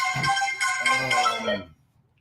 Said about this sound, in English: can't take a phone call now because I'm on a live stream